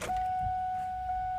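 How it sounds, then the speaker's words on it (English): A 1994 Ford Mustang's electric fuel pump energizes when the key is turned, giving a steady, faint, high-pitched whine that holds evenly throughout with nothing else over it. "Turn the key and listen for that pump to come on."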